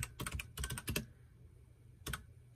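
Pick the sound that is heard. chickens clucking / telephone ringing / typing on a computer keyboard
typing on a computer keyboard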